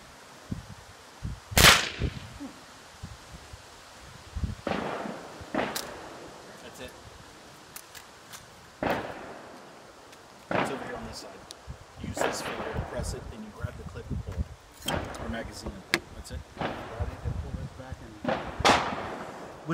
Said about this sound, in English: Shoot a little higher.